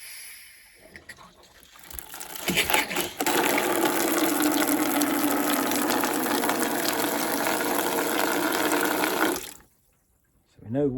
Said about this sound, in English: let's go and turn the tap on and make sure it is coming out the other end.